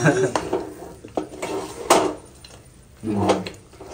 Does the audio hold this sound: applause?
no